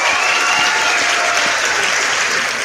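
Audience applause at a live show, a steady dense roar of clapping that holds loud and unbroken throughout, with faint voices blended into the crowd.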